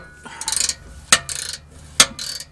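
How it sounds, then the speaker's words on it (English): A ratchet drives a 12mm deep socket while removing an oxygen sensor on a 1997 Lexus LX450 (FZJ80), giving three short bursts of fast clicking, close and fairly loud, separated by brief knocks. "This is just a 12mm deep socket."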